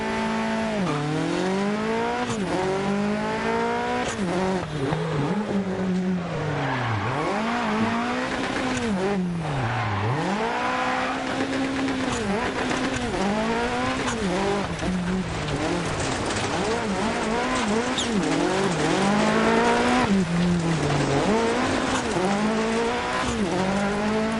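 Rally car in the Dirt Rally 2 video game driving a stage, its engine revving up and down through repeated gear shifts with rising and falling pitch, loud and continuous, with gravel and tyre noise underneath.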